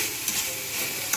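Banana stem stir-fries in a pan with a little sugar, a steady close sizzling hiss broken by a couple of soft stirring scrapes, with no voices.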